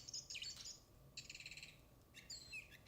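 A small toy bird gives three quiet, separate bursts of high chirping and twittering, with short gaps of near silence between them.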